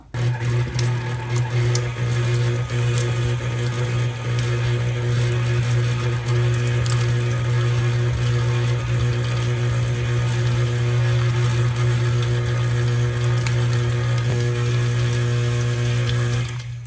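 Electric mixer whipping buttercream frosting: a loud, steady motor drone with a strong low hum, running continuously and close by with no pauses, no talk over it.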